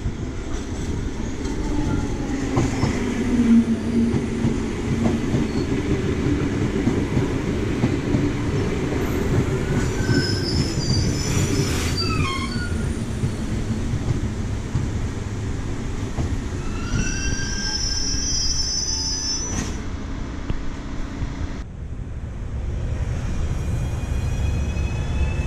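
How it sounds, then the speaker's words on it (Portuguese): A Belo Horizonte metro train pulls into the platform with a loud steady rumble and clatter of wheels, brief high squeals of braking near the middle and later, then quieting as it slows. "O próximo trem para Vilarinho possui 8 carros."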